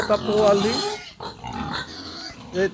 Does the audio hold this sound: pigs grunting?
yes